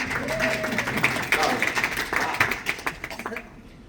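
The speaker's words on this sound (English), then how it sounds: "Round of applause for the new clicker." An audience gives a round of applause at a talk, a dense burst of clapping that carries on for several seconds and thins out toward the end.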